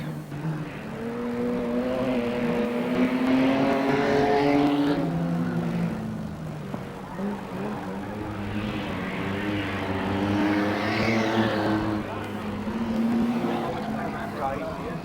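BriSCA F1 stock cars race around a track, their engines droning and swelling loudly in long waves as they pass, with a commentator talking over the noise.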